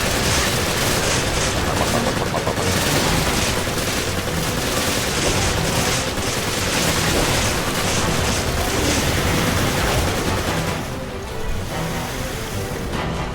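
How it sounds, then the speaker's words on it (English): Sustained rapid automatic gunfire from the M8 Avenger in the Resident Evil 5 video game, loud and dense with booming impacts, running almost without break before easing near the end. "I'm just gonna shoot them. My M8 Avenger."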